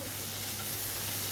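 Food fries in a pan while cooking dal makhani, a brief, steady, fairly quiet sizzle with an even hiss throughout.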